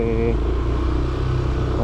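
A new Yamaha Aerox SP scooter engine runs with a close, steady, buzzing hum and a slight rattle, while someone talks over it.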